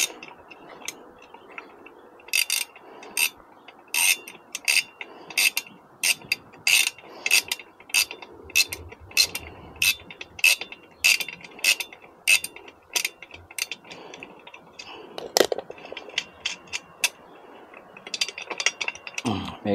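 A ratcheting wrench tightening the hitch bolt of a 2-inch hitch bike rack, with quick repeated metallic clicks in bursts and brief pauses, close by, with occasional handling noise.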